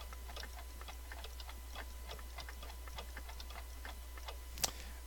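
A steady mechanical ticking from an alarm clock in the video game Gabriel Knight 2, evenly spaced clicks running throughout over a low hum, with one sharper click near the end.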